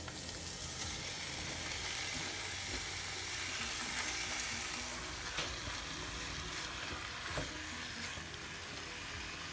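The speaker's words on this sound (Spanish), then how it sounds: "Ahora vamos a agregar la carne." Diced pork leg sizzles and fries loudly with browned onion in hot oil, a dense, continuous crackle close by with a few sharper pops and no voices.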